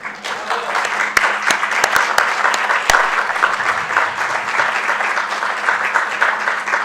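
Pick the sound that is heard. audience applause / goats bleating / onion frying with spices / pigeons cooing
audience applause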